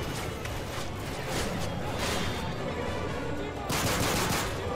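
Rapid automatic gunfire in Call of Duty: Modern Warfare 3, dense and continuous across the whole stretch, with a louder burst near the end over game noise.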